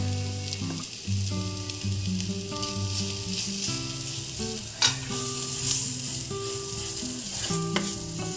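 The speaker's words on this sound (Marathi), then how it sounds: "हे आपल्याला चांगलं तेलामध्ये फ्राय करून घ्यायचं आहे।" Red masala and turmeric fry in oil for a Maharashtrian prawn curry, a constant bright sizzle with occasional stirring scrapes, mixed with a steady background tone and no speech.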